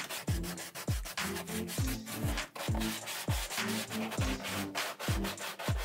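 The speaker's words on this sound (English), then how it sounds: "We can use sandpaper to do this." P180 grit sandpaper rubbing the edges of holes cut with a knife in a homemade sandblasting cabinet, rhythmic back-and-forth strokes repeating about twice a second, close and alone.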